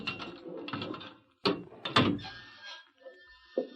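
A jail cell door is unlocked as a radio drama sound effect: a sharp metallic clack followed by a rattling latch and a short creak, close and fairly clear, with faint voices before it.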